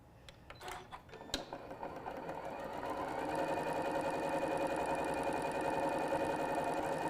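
A sewing machine lock-stitches strips of fabric for a pouch with plain white polyester thread. A few clicks come first, then the motor builds into a steady, close, continuous whir with no voices.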